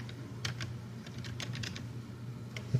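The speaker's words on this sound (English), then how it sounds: "I'm actually going to cheat here and type in" Rapid bursts of keystrokes on a computer keyboard, close and clear, clicking in short irregular runs with no talking.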